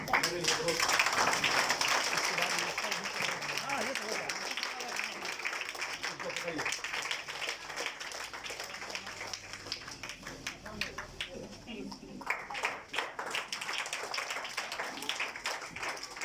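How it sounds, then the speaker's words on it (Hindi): An audience at a school gathering claws into warm applause to welcome a guest, loud clapping at first that thins into scattered claps, with people talking over it. "हम लोग ताली से उनका स्वागत करें"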